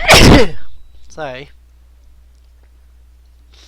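A single loud, sharp sneeze bursts out up close, followed by a short spoken apology, then quiet.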